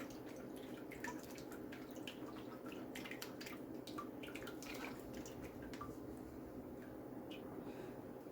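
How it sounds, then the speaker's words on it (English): Cucumber juice drips and trickles steadily as it is squeezed through a thin piece of cloth, a close, wet patter of small splashes against a low continuous background, with no voices. "my thin piece of material, so that I can squeeze out all the juice"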